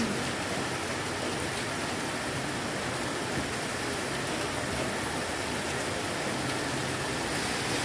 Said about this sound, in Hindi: रात को आ गई थी तेज़ वाली बारिश, तो बस थोड़ा सा वीडियो शूट कर लिया था